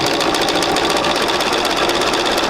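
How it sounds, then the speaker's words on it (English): A domestic sewing machine stitches fabric along a drawn line on a sampler quilt block, its needle chattering in a fast steady buzz, loud and close, running without pause and with no talk. "Let me just spin this around and sew again on the other line that we drew."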